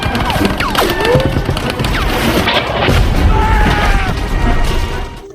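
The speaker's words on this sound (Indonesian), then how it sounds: "Tapi tiba-tiba Red terkena ledakan yang membuatnya terluka parah" Explosion in a war film: a loud, dense roar of blast and rumbling debris that fills the whole stretch, with swooping whistles and crashes over it before it cuts off near the end.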